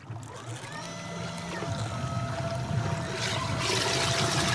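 Electric trolling motors on a fishing kayak, powered by a 16-volt battery, whir steadily with a faint high whine over lapping cold freshwater, the wash building louder toward the end.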